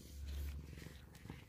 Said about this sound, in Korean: 골골송 이야